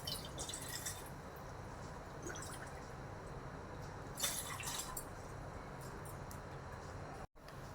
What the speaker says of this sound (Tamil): இப்போ இதில் 2 டம்ளர் தண்ணி ஊற்றிக்கலாம்.